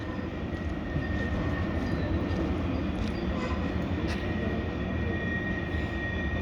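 A train rumbles steadily through a tunnel in the Spiral Cut, a continuous moderately loud roar heard alone without speech.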